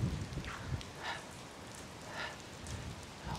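Steady rain falls during a typhoon in Japan, a soft continuous hiss with faint patters and drips throughout, no voices.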